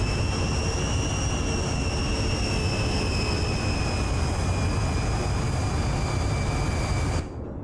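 A Boeing 707 jet airliner in the naval video game Sea Power roars past with a steady, loud engine rush and a high whine that slowly falls in pitch, then cuts off abruptly near the end.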